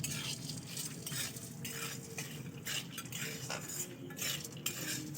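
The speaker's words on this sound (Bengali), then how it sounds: "এই তিনটে জিনিস একসঙ্গে মিক্সড করে ভালো করে ভেজে নিতে হবে" Flattened rice, peanuts, gram and peas are being fried and stirred together in a pan, giving continuous scraping and rattling from a spatula over a steady sizzle, close and fairly busy throughout with no voices.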